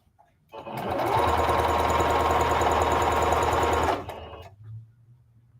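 A sewing machine stitches fabric for palazzo pants, starting up after a short pause and running in one steady, fast mechanical whir for about three seconds before stopping abruptly.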